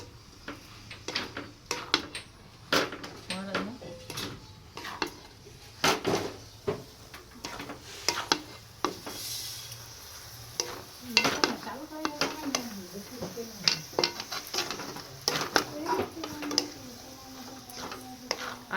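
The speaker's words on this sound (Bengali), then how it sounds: "আমার নারকেলটা নাড়া হয়ে গেছে" Grated coconut is stirred in a metal pan on a gas stove, with repeated scraping clinks and knocks of a utensil against the pan in an irregular rhythm, faint sizzling underneath, close and fairly quiet.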